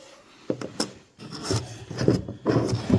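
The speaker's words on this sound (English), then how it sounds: "I just used a screwdriver to pry that out." A screwdriver scraping and prying inside the battery compartment of a Holosun 507k X2 red dot sight, close, with uneven rubbing, clicking and scratching bursts of small metal-on-plastic contact.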